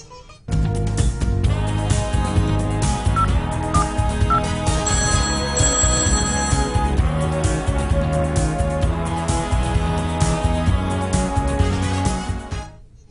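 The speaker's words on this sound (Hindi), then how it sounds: "चलिए लगाते हैं उनको सीधा फोन" On a radio call-in show, a phone rings loudly and steadily as a lucky caller is dialed, a repeating electronic ringtone melody lasting most of the clip before cutting off near the end, with no voices.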